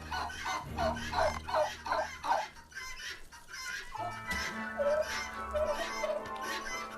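Male turkeys on a hobby farm gobble back and forth, one strutting and puffed up while another answers, in a run of close, rapid rolling calls followed by softer replies over a low steady hum.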